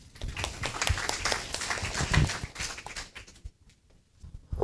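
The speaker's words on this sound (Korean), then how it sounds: "박수로 모셔주세요." Scattered applause from an audience at a university admissions information session welcoming a speaker, a burst of uneven clapping that thins out and fades before a few last claps.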